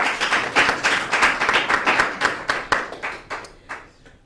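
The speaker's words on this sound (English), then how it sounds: "Please clap for me." A small party audience claps for the cake cutting, with brisk, close hand claps that thin out and fade to a few scattered claps near the end.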